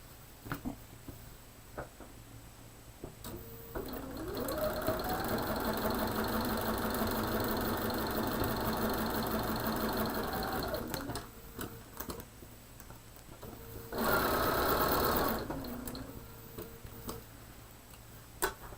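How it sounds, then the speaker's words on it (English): A sewing machine stitches a cushion for holding clips and pins in a long steady run of fast mechanical ticking and motor hum, then a second shorter burst after a pause, with quiet handling clicks between. "I think today I'm getting in the zone of sewing."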